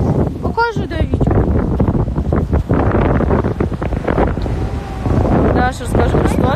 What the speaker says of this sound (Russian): Не слышно, может быть, из-за ветра, кстати.